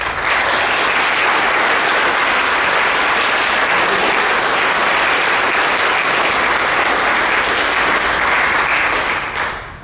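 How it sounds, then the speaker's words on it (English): Applause for faculty members standing to be recognized at a university of Oriental medicine commencement ceremony, loud and steady crowd clapping sustained for about ten seconds before fading slightly at the end. "We give them applause and appreciation."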